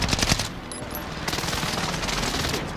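Gunfire in Call of Duty: Modern Warfare, rapid automatic bursts that crackle densely through the whole stretch, loud and close with a brief louder flurry near the start.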